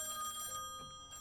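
Electronic telephone ring in the horror video game Song of Horror, one short tonal ring burst that cuts off and briefly starts again, clear and close with no talk over it.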